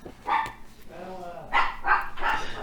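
A dog barks several times in sharp bursts close by, with a short whine-like call between the barks and no talk over it.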